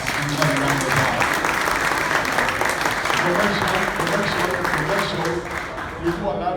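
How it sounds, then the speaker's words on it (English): An audience at a hemp business conference in Dallas applauds President Vicente Fox, a dense, loud round of clapping sustained throughout, with voices and a tonal sound layered over it. "Everybody, a round of applause."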